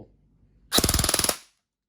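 An E&C 857 airsoft gun fires in full auto, a short sharp burst of about a dozen rapid, evenly spaced mechanical cracks that starts abruptly after near-silence and stops cleanly.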